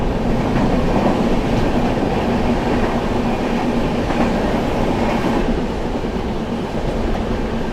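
The Prayagraj Express races past Anand Vihar at high speed in a loud, continuous roar of wheels and rushing carriages that eases slightly toward the end.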